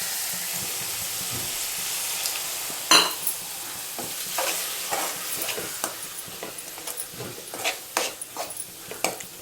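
Masala of tomato, green chilli and chilli powder with a splash of water stirred and fried in a pan for a Tamil vanjaram fish kulambu, a steady sizzle under repeated scraping strokes, close and moderately loud.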